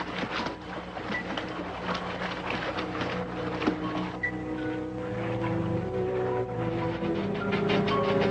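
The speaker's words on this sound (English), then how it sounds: "I hear a motorboat" A motorboat engine draws nearer across open water, a steady low droning hum that grows gradually louder and fuller, with scattered incidental noises layered on top and nobody talking.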